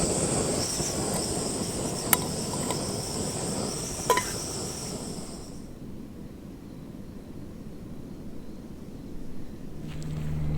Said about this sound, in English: all I could hear are frogs off over in this ravine over here